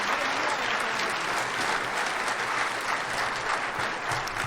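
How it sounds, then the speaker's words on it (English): A concert audience applauds a soloist at a state honors jazz concert, a thick, steady burst of many hands clapping that continues unbroken with no talking. "Give our soloist a round of applause on that tune."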